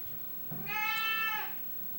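A single drawn-out cat meow, close and clear, rising and then fading over about a second, with no talking around it.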